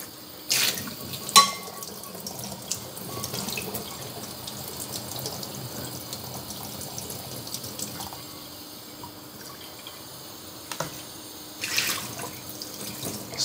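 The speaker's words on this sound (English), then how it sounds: "nice warm soapy water, and we just want to wash off all this stuff that's on here" Warm soapy water runs from a tap as a Darto carbon steel pan is washed in a sink, with a continuous close splashing stream, a few louder clatters and splashes, and no talking.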